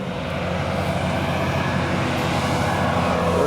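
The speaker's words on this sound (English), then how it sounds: "Oh, water truck." A heavy water truck rumbles past outdoors on a rural property, a steady, continuous engine and road roar that holds at a constant loud level throughout, with no voices over it.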